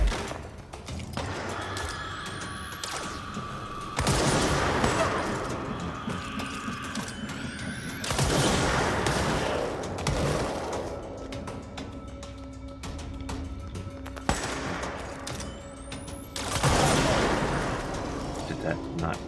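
Pierce service weapon firing in the game Control, several loud shots with echoing blasts separated by a few seconds, over game ambience and mechanical whirs.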